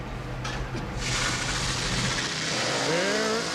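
Race boat engines drone steadily at moderate distance during a 2007 Seattle heat race, a broad wash of motor sound with a faint higher whine rising near the end.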